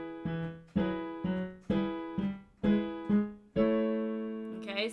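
Piano left-hand walk-up pattern in E, notes played in a steady repeating pattern, each struck note ringing briefly before the next, with a fuller chord near the end.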